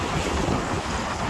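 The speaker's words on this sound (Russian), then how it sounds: "Метет ветер." Wind sweeps snow through St. Petersburg streets in winter, a steady loud rushing roar with gusty buffeting against the microphone, no voices present.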